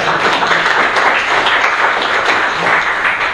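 A conference audience at a PHP developer day gives warm, dense applause, a close, steady patter of many hands clapping with no voices over it.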